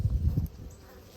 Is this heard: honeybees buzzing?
yes